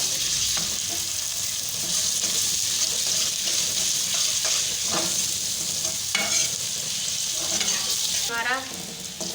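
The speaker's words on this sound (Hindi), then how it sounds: "अब हम इसमें लहसुन अदरक का पेस्ट डालेंगे। इसको थोड़ा सा फ्राई करेंगे" Steady hissing sizzle of garlic ginger paste frying in a hot pan, with occasional stirring scrapes and clinks, close and continuous throughout.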